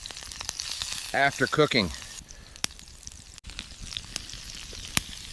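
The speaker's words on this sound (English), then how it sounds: "Basting the steak in butter with garlic and thyme increases the flavor" Steak frying in a pan while basted in butter with garlic and thyme, a steady close sizzle with crackles and pops, someone speaking briefly over it.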